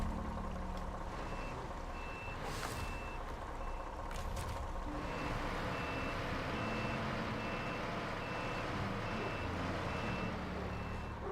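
A heavy truck in SnowRunner, driven on hard mode in the Maine region, sounds a steady, evenly spaced reversing beep over a constant low engine rumble, with brief hissing bursts near the start.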